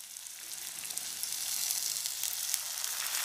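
Chopped tomatoes frying in oil with golden-browned onions for spiced chickpea curry, a steady close hiss of sizzling that grows slightly louder partway through, with no talking.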